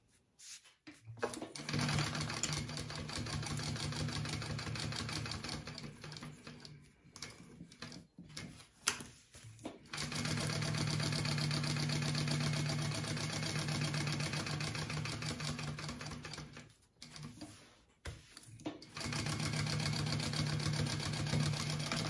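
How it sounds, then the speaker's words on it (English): A sewing machine bastes a wallet lining along three sides, running in steady mechanical bursts with short pauses between seams, a close, even whirring and ticking. "I am going to baste it down along all three sides"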